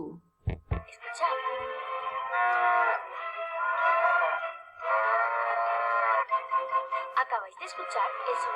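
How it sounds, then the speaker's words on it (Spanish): A real cow moos several times in long, drawn-out calls, loud and close, with brief pauses between lowing bursts and a few short knocks at the start. "Acabáis de escuchar el sonido de una vaca de verdad."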